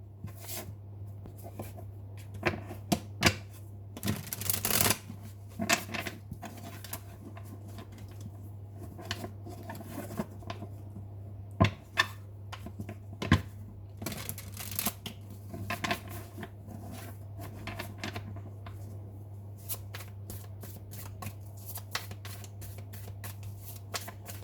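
A deck of tarot cards is shuffled by hand in repeated quick riffling and flicking bursts, close and fairly soft over a low steady hum, with no speech.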